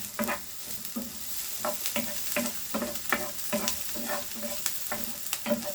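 Garlic and onion fry in a pan for a budget cottage pie, with steady sizzling broken by regular stirring scrapes every half second or so, close and fairly loud, with no voices.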